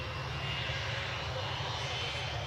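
A British Airways Airbus A320 taxies toward the runway at Newcastle airport, its engines giving off a steady, broad roar and whine that holds evenly, heard from a distance without talk.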